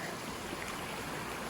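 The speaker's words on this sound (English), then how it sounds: "This is Nucla Creek coming down from the side mountain up there." Mountain creek water, Nucla Creek on the Colorado Trail, rushing down from a side mountain as a steady, even broadband wash with no breaks, moderately close and alone with no voices.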